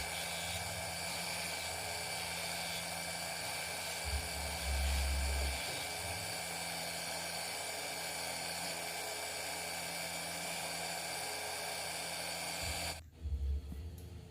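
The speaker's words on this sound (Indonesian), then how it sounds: "dan akan dihaluskan dengan memakai amplas grinder" A steady, high-pitched mechanical whine of a power sanding grinder smoothing the edge of a child's shoe runs continuously, then cuts off near the end.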